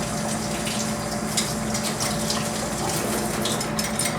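Tap water runs steadily while a keg lid is rinsed during homebrew keg cleaning, a continuous close gushing stream with faint clinks and no talking.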